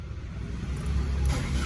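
Engine of an automatic car rumbling low and close, the idle swelling slightly louder partway through the short burst.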